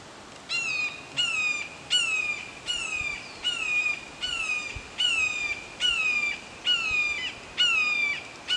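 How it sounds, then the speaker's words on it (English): A red-tailed hawk at a beaver pond gives repeated harsh descending squawks at a steady pace of about one per second, loud and close over faint ambient background, with no clear bullfrog call. "if you listen closely, you could hear a bullfrog and a red-tailed hawk"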